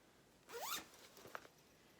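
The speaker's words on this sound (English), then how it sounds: "Sorry about the zippers and stuff." A single close zipper pull on clothing, a quick rising zip lasting about a quarter second, followed by a few faint clicks of the pull tab in a quiet room.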